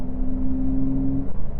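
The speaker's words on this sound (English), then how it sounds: "And that exhaust note isn't actually that bad" A Porsche 911 Carrera S with a turbocharged engine drones at a steady low pitch, a smooth, fairly loud exhaust note that holds briefly before easing off.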